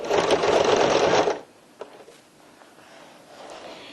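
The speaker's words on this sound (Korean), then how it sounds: "마주 본 다음에 박음질을 해주셔야 됩니다." A sewing machine stitches the seam of a tote bag in one loud, steady burst that stops abruptly, followed by quiet handling sounds.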